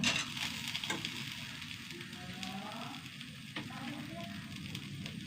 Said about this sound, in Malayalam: തേങ്ങ ഒന്ന് വറുത്തെടുക്കാം